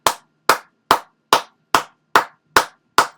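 Eight sharp single hand claps in an even, steady rhythm, close and crisp, each ringing briefly before the next, imitating a wrestler's entrance clap.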